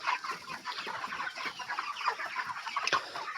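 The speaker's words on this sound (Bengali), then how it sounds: "দেখুন কত সুন্দর মুরগি আছে।" Chickens in a poultry shed with rice-husk litter cluck and chatter continuously nearby, many overlapping calls forming a busy, steady flock sound.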